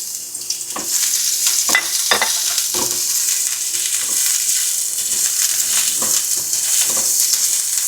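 Onion and garlic sizzling steadily in hot cooking oil in a pan, a loud continuous frying hiss broken by the scrape and tap of a stirring utensil.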